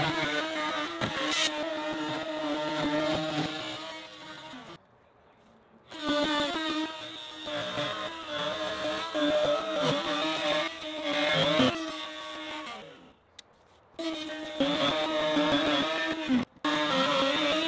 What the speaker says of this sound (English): I drilled a little hole right here that my router bit will go in, and then I'll just ride the inside where the wood is